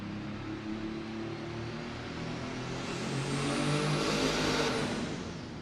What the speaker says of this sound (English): Here comes that Rolling Stone tractor.